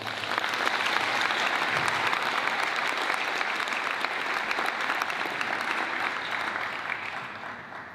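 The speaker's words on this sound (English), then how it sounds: "let's give an opening round of applause for the start of this year's Kent Davis competition" Opening applause from an audience at the Kent-Davis speaking competition, a full, steady roar of many hands clapping together for several seconds before easing off at the close.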